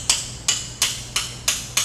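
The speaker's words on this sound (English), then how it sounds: "this is a brass hammer." A brass hammer taps a crankshaft part six times in an even rhythm, each blow a sharp close metallic knock with a short ringing decay.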